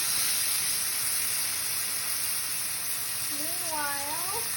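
Beef steak sizzles in a pan after being flipped, a steady close hiss and crackle that runs the whole time, with a faint whistling tone rising near the end.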